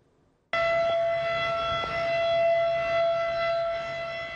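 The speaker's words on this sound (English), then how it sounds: "This siren signals water levels along the Decho, Mackenzie River, have reached 15 meters high." A civil defense flood warning siren along the Dehcho (Mackenzie River) comes in abruptly after near-silence and holds a steady, loud, sustained wail, with outdoor background noise beneath.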